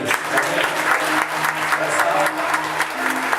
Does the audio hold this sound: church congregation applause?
yes